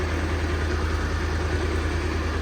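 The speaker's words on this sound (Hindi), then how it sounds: "बाइक जो है अपनी बिना एक्सीलेटर के स्टार्ट है" A Bajaj Pulsar motorcycle engine idles steadily after a self-start, with no throttle applied, a close, even low putter running continuously without change.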